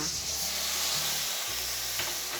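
Onions stir-frying with squid in a pan for a Korean-sauce squid dish, giving a steady, close sizzle and hiss with a few soft scraping stirs throughout.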